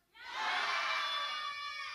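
A large audience yells a sustained, unified shout together at a lecturer's prompt, loud and close, rising sharply and holding steady for nearly two seconds with a bright, crowded roar.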